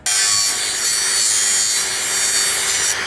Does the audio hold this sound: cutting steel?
yes